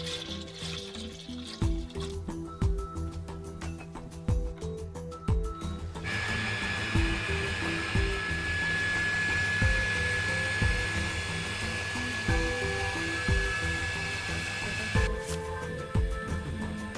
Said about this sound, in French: Le circulateur est mis en marche forcée.